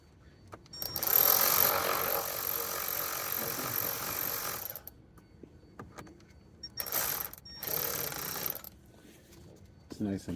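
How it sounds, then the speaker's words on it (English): A ratchet tightens nuts on the speedometer cable of a Cutlass Supreme G-body. It gives a fast clicking whir in a few bursts separated by quieter gaps, close up, with a person talking in between. "I shouldn't be using this ratchet on these because I could strip it"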